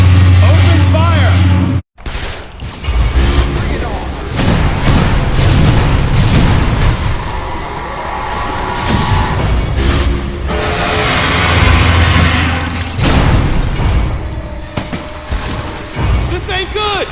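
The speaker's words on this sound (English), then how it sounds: "Open fire!" Gunfire and explosive booms from soldiers in Metroid: Other M, loud bursts and crashes after a brief dropout, mixed with game effects and shouted dialogue.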